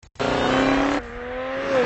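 A BMW launching hard off the line, engine note climbing loud and close with a brief gear change about midway, tone rising again steadily afterward.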